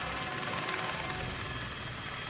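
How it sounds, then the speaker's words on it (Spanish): A Quito fire department helicopter flying during a search operation, its rotor a faint, steady distant drone that holds evenly throughout with no talk over it. "Un helicóptero del Cuerpo de Bomberos de Quito colaboró en el operativo."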